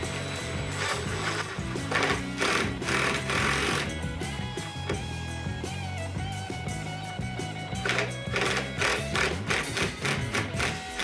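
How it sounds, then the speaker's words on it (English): An impact driver sinks a lag bolt with a 5/8-inch washer into a wooden table saw stand, making loud, close bursts of rapid hammering rattle that start, pause and start again over steady shop noise. "I have my impact that I'm going to run this in"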